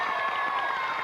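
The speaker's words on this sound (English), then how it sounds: "A round of applause for superstars." An audience cheering and clapping for the pop group Take That on a 1992 children's TV show, a steady loud wash of applause filling the whole moment.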